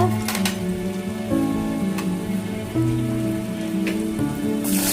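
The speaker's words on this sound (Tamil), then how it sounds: "3 பல் பூண்டு அதையும் போட்டு நல்லா வதக்குங்க" Garlic cloves sautéing in hot oil with urad dal and dried red chillies, a dense continuous crackle and patter of frying, close and fairly loud, with the pitch shifting as the pan is stirred.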